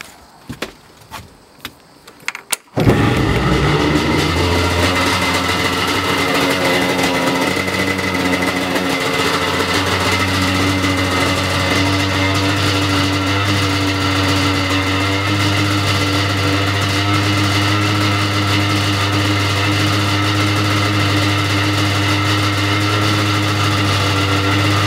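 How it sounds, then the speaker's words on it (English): A 1999 Yamaha LS2000 boat engine run on a hose. After a short mechanical rattle it cranks and catches, then settles into a steady, loud, droning idle that continues to the end. "I'm gonna go ahead and start the engine."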